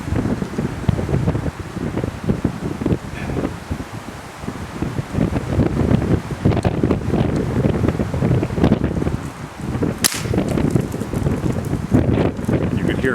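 Strong gusts buffet an outdoor microphone at an air rifle shoot, a constant loud rumbling roar with surging peaks and one sharp burst near the end.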